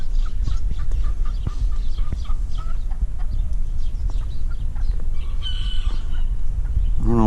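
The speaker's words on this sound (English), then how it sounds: "I don't know what this chicken's doing out." A chicken loose in a San Diego backyard among tropical fruit trees clucks in repeated short bursts, close and clear over a low rumble, ending with a rising squawk.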